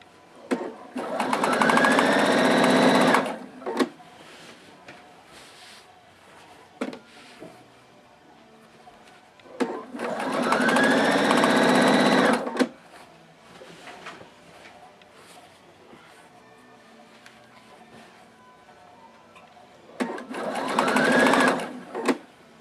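Sewing machine stitching bias binding onto fabric in three loud whirring bursts of a few seconds each, close up, separated by quieter pauses with faint handling clicks of cloth and thread.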